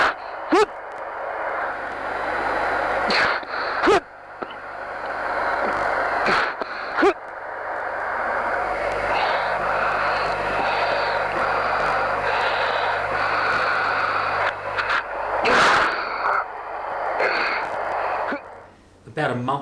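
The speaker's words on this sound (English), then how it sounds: "you'll also be able to hear my breathing technique, which stops me blacking out at the high G-force" A pilot performing the anti-G straining breathing technique in a Hawk jet cockpit during high-G manoeuvres, repeated forceful grunting breaths and gasps over a steady engine and radio hiss, with brief talk mixed in.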